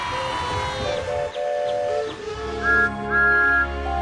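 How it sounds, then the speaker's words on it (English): Several steady, tonal whistles sound one after another, some short and some sustained, with a rumbling mechanical background beneath them. "Cheers and locomotive whistles erupted in celebration."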